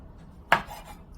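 A single sharp knife cut through baby bella mushrooms on a board, quartering them into wedges, heard as one brief crisp thunk against a quiet kitchen background.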